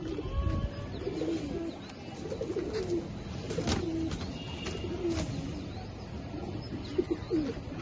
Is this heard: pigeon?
yes